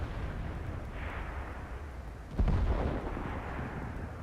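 A heavy artillery shot booms once amid a low rumbling battlefield backdrop in World of Tanks, a deep thud about midway followed by a fading roll.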